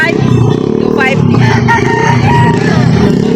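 An eight-month-old rooster at a poultry market in Lipa City, Batangas lets out a loud, close crow over busy market noise, with clucking fowl and a passing motor vehicle faintly behind.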